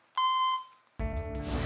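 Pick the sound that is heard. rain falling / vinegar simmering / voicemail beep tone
voicemail beep tone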